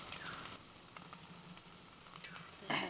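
Tandoori chicken sizzles softly over a charcoal fire as marinade oil is brushed on, with faint crackling and a few brighter hisses and pops, quiet and close.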